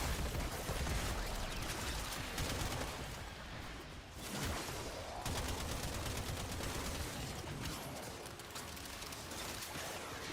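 In Warframe, the Cedo shotgun fires rapid, dense bursts of loud gunfire mixed with game combat effects and whooshes, packed nearly continuously with a brief lull in the middle.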